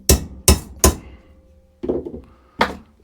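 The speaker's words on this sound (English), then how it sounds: "I've now marked the centre, and we'll just put a punch mark" A hammer strikes a centre punch on metal: three sharp, loud blows in quick succession, a pause, then two more hits, each ringing briefly, close by and without talk.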